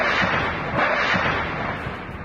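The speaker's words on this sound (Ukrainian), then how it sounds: "У Токмаку вибухнув склад окупантів." A Russian ammunition depot in Tokmak explodes, producing a dense, rolling rumble of blasts heard from a distance, with no voices.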